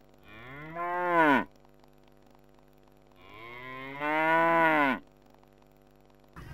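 Cattle on a village farm in Desa Burai moo twice, each call a long, loud, rising-and-falling bellow with a pause between, followed by the start of a third at the end.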